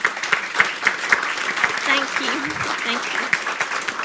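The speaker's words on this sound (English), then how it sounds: "I think we need to give her a hand of applause." An audience at a county board work session applauds steadily for several seconds, a dense wash of clapping with a voice briefly speaking over it.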